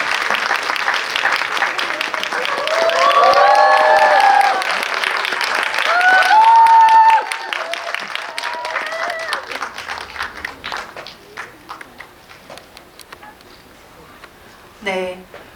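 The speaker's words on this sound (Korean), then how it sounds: "큰 박수로 세 분의 게스트를 환영해 주시기 바랍니다" A movie-talk event audience greets three arriving guests, a director and actors, with loud, sustained clapping that rides under cheering voices, then thins out to scattered claps and fades near the end.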